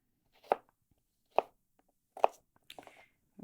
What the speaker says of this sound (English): So you want sharp knife, skin side up, and you're going to cut slices.